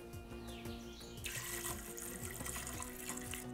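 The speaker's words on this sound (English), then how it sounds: "Finally, add water." Water pours into a cooking pot of chickpeas and oil for a beef tagine, a soft, continuous splashing stream that swells partway through, while faint birdsong carries in the background.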